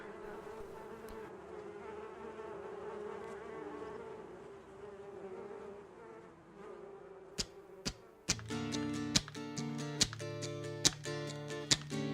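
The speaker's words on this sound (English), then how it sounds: "the bees have busted into GNOME Studios" A dense swarm of bees buzzes steadily for several seconds, then a series of sharp, loud clacks and a bright, bouncy music-like passage takes over.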